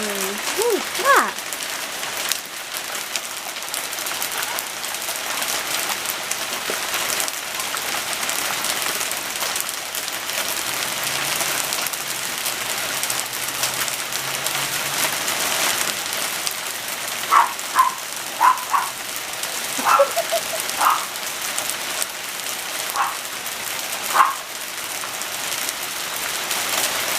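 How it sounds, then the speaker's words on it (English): Hail in a storm pelts a roof in a dense, steady hiss of impacts that runs throughout, with occasional sharper ticks standing out and a person talking faintly underneath. "It's hailing right now. Like, look at it coming off the roof."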